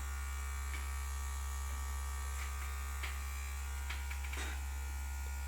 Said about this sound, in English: this is legit the gimbal motor